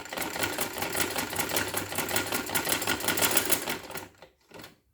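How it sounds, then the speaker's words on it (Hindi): Sewing machine stitching a round neckline on a garment: a close, loud, fast rhythmic chatter running steadily for about four seconds, then stopping, followed by a short final burst. "तो ये हम सिलाई कर रहे हैं।"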